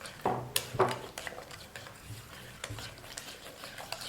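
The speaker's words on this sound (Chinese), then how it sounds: "再次搅匀" Potato and yeast batter stirred in a bowl, giving scraping, clinking strokes of a utensil against the bowl, loudest at the start and softer, irregular stirring after, close by with no talk.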